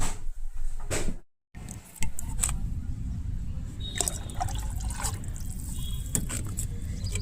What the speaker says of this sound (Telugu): రైస్ కడిగిన వాటర్ వేస్తున్నాను